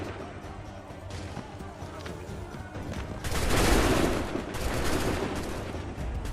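Volley of musket fire from a line of soldiers in Assassin's Creed III, a loud dense burst of overlapping shots erupting midway over battlefield ambience and shouted orders, then lingering crackle.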